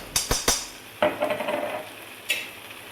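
A metal spoon stirring macaroni pasta with Schezwan sauce in a pan, several sharp clinks against the pan followed by scraping and a final knock, close and alone.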